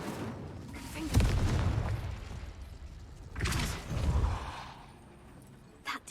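A Confringo blasting spell bursts in Hogwarts Legacy: a loud low boom near 1.2 seconds, then a second rumbling blast around 3.5 to 4 seconds, with a brief sharp crack at the very end.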